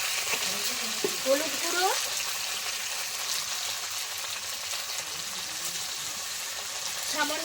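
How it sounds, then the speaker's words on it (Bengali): Chopped ridge gourd and potato with salt, turmeric and chili powder fry in a pan with a steady, close hiss and sizzle, while a person talks over it now and then. "দিয়ে ঝিঙে আলুটা ভালো করে একটু ভেজে নেব"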